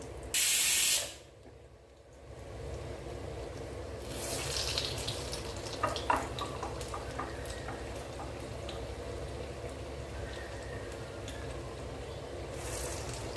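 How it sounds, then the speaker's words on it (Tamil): Vada deep-frying in hot oil, a steady close bubbling hiss that runs throughout, opened by a short loud burst of spraying noise. "வடை நல்லா மெதுவாக வேகட்டுங்க"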